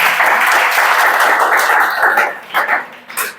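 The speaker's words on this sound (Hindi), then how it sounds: "चलो मजा इसमें ताली बजाओ।" Students in a Chhattisgarh police recruitment coaching class clap together loudly and densely, and the applause thins to a few scattered claps at the end.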